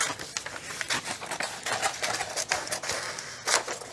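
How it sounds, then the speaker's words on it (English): Paper being trimmed for a file folder poster: a quick run of close, dry ticking cuts and light rustles, fairly faint and irregular, with no voices. "So we're going to trim it."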